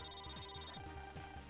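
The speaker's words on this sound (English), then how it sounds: "Phone call." A phone-call ringtone in the Mega Man Star Force 3 video game plays a quiet, repeating electronic chime pattern in quick cycles, with no talking over it.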